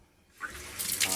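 Water from a tap starts running, rising quickly into a bright, steady rushing hiss that grows louder over the brief moment, heard close up with no talking.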